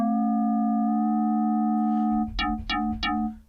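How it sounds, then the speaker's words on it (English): Metallic FM synth tone from Ableton for industrial techno, a sustained pure, ringing tone that shifts slightly, then three sharp clangy hits with a bright, bell-like metallic character, close and solo. "That's already giving you this nice metallic sound."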